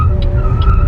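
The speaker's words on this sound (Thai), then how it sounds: "กดคันเร่งสปอร์ตสุดตั้งแต่ออกตัวนะครับ" BYD electric car launching from a standstill at full throttle in sport mode: a brief, loud, continuous tire squeal with a steady tonal whine over low road rumble.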